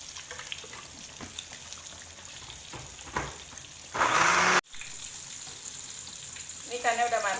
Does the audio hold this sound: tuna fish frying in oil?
yes